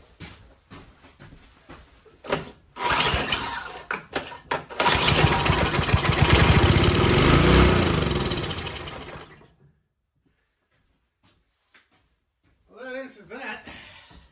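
A Craftsman 524 snowblower engine, primed with two-stroke fuel, is pulled and catches, roaring loud and close for a few seconds before cutting out; a voice talks briefly afterward.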